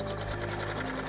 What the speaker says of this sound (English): we're going to stitch more decorative stitches